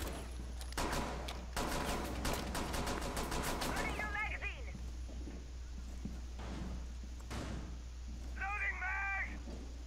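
Rapid automatic gunfire in a Rainbow Six Siege hostage match, with dense bursts of shots up front, then sparser shots and game effects over a constant low hum, and voices talking briefly.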